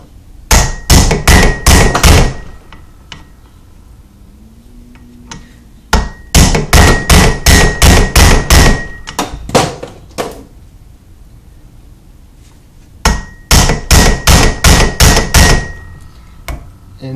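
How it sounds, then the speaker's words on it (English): Heavy hammer blows drive a U-joint end cap out of a drive shaft yoke, ringing metallic strikes in three fast bursts of about eight to ten hits each, loud and close, separated by brief pauses. "just hammer away and beat it like you're a man"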